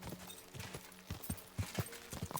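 Horse hooves in the video game Kingdom Come: Deliverance II clip-clop in an uneven trotting rhythm, soft and fairly close, with no talking over them.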